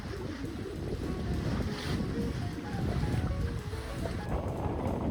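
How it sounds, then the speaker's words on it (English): Sailboat running on a beam reach down a bay in a fresh west wind, with a steady rush of water along the hull, waves and gusty wind buffeting the microphone throughout, no talking. "A fresh west wind makes for a smooth and fun beam reach down the bay"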